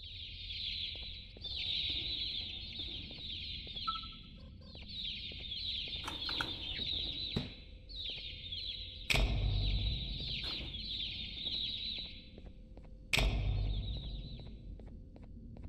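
Chickens cluck repeatedly in the video game Garten of BanBan 2, a steady run of bird calls at moderate level, broken by a few sharp thumps and clicks, with no talking.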